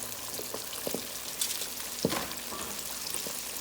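Pig tails frying in hot oil in a pot, a steady sizzling hiss broken by scattered sharp pops and crackles, one louder burst near the middle, close and with no talking.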